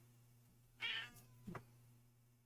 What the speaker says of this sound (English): And she's meowing in case you can't hear her.